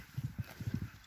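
A horse trots past on a hard surface, its hooves clip-clopping in quick, quiet uneven pairs for about a second.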